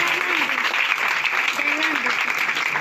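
A church congregation at a night prayer meeting applauds steadily in a moderate, continuous patter, while a voice speaks over the clapping.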